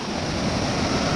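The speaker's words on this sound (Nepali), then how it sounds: "यो रहेको छ झरना" The Jharuwarashi waterfall at Santaneshwor, Nepal, gives a constant, dense whooshing roar over a brief moment, fairly close with some wind buffeting the microphone and no speech.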